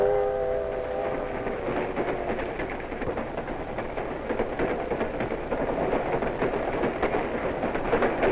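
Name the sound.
toy trains running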